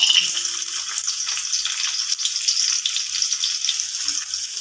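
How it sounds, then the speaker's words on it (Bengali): Chopped onion frying in mustard oil in a wok, a steady, fairly loud hiss and crackle of sizzling that holds on without a break, with no voices over it. "কড়াতে আমি সরিষার তেল দিয়েছি, পেঁয়াজ কুচানো দেবো।"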